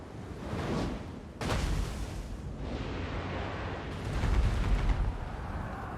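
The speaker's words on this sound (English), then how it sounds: "nice hits there, though. From the warp lightning cannons straight through the ranks of the archers and the spearmen" Warp lightning cannons in Total War: Warhammer 2 fire and blast into enemy ranks, sharp booming explosions cracking out over a rumbling battle din, with a big hit near the start and another burst later.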